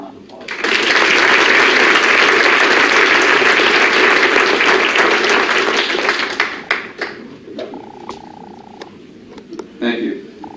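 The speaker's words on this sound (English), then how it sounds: "Please give him a round of applause." Audience applause at a university athletics senior awards assembly, a loud sustained burst of clapping from about 0.7 to 6 seconds that thins into scattered claps, with a brief tone and faint voices near the end.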